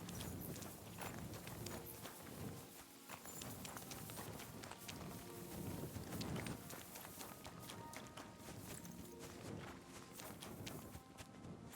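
Horse hooves clip-clop at a steady trotting rhythm in the medieval video game Kingdom Come Deliverance 2, close and continuous, with light rustling and gear sounds layered in.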